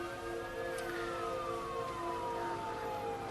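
A faint ambulance siren wailing in the distance, its pitch falling slowly, over a low steady background rumble.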